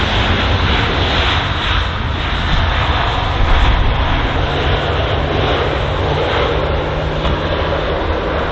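DHL cargo aircraft at London Heathrow airport, a loud, steady jet engine roar with broadband rumble and hiss sustained throughout, a faint tonal whine emerging in the second half.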